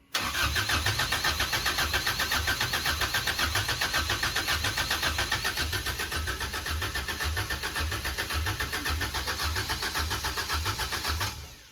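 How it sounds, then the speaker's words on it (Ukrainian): A new K24 engine fires up for the first time and settles into a steady, loud idle with a fast, even pulse throughout, close to the microphone with no talk over it. "Давай заведешь этот мотор"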